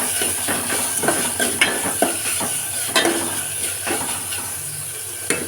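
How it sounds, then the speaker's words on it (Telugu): Paneer bhujiya frying in a pan after garam masala goes in. A steady sizzle carries under repeated scraping and stirring strokes, each stroke landing as a light knock against the pan. "కొంచెం గరం మసాలా ఇప్పుడు కొంచెం వేయించుకుందాం."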